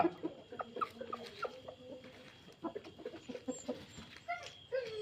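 Gaaj fighter chickens cluck and squawk in short irregular bursts nearby, a steady outdoor murmur underneath with no voices.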